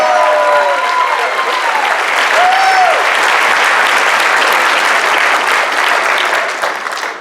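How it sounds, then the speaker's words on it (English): Loud, sustained crowd applause fills the room at a Mardi Gras in the Mountains coronation ceremony, with a few voices and whistles rising over the clapping before it tapers off near the end. "How about a round of applause for all of the folks up here on the stage tonight?"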